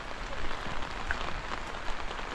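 Steady rain in wet-season weather makes a dense, continuous hiss of drops striking surfaces outdoors, even and fairly loud throughout, with no voices.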